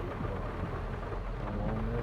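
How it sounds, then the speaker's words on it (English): Steady rain falls in a farming video game, a continuous wash of drops with low rumbling underneath, even and uninterrupted with no voices. "Rex, does it always rain in this game?"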